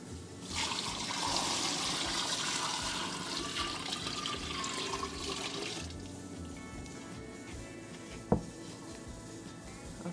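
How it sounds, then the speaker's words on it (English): Water gushes from a tap into a container, a steady rushing that changes pitch as it fills, then eases with a brief clink. "I'm going to fill this with water"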